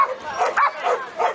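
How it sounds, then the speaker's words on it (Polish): A search and rescue dog from a volunteer fire brigade barks in quick, loud, close yelps, about four sharp barks in rapid succession. "podlatuje i słyszycie szczekanie"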